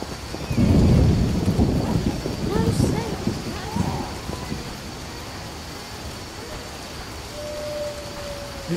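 Thunder rumbles deep and close at the start of a rainstorm in The Witcher, then rolls away and fades. Steady rain hisses underneath the whole time, and a faint tone rises near the end.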